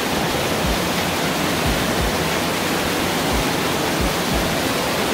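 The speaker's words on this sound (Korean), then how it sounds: "물이 많이 내리고 있어요. 그냥 거의 폭포수에요, 폭포수." Heavy water pours like a waterfall inside a large limestone cave, making a dense, loud, continuous roar that fills the space without a break.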